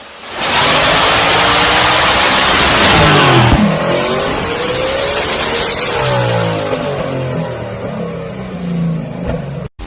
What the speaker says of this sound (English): V8 Toyota Supra with turbo.